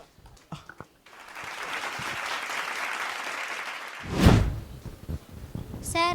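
A studio audience at a motivational talk show breaks into broad applause after a few scattered claps, holding steady for several seconds before a loud thump and murmuring voices as it fades.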